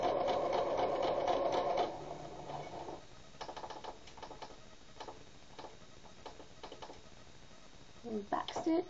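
A sewing machine runs shirring rows along fabric, a loud fast mechanical rattle for about two seconds, then quieter intermittent stitching bursts and ticks, with a brief louder run near the end.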